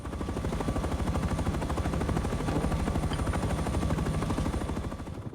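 A helicopter in Rust attacking a base gives a steady, rapid pulsing drone, rotor thump blending with sustained automatic fire, moderately loud and unbroken throughout.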